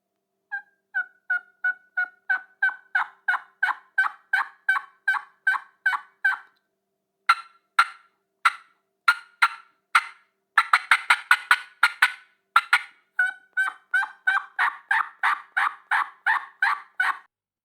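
A diaphragm mouth call imitates a turkey, producing a long series of sharp, evenly spaced yelps that speed up into a fast cutting burst near the middle before settling back into steady yelping, loud and close with no talk.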